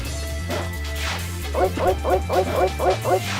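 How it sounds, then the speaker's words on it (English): A dog in Shinobi (2002) gives a run of short, rhythmic yips and bow-wows, about seven evenly spaced barks, close and fairly loud over steady game background sound. "Pepsi Dog has returned."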